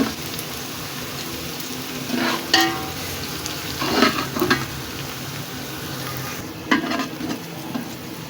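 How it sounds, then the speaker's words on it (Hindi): Steady sizzling of half a kilo of chopped onions browning in a pot for chicken pulao, with occasional stirring scrapes and clinks of a spoon against metal. "आधा किलो मैंने प्याज था, उसको कट करके मैंने इसको ब्राउन कर रही हूँ।"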